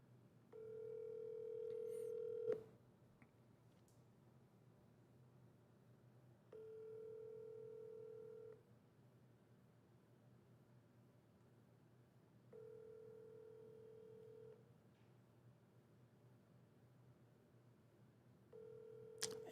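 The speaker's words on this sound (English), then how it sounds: "Answer the phone." Telephone tones on a call-in show ring out in repeated steady bursts of about two seconds, separated by quiet gaps, over a faint background hum.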